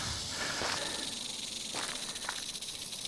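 Agitated rattlesnake rattling in the wild, a continuous dry buzzing hiss that stays fairly loud and steady throughout with no talk.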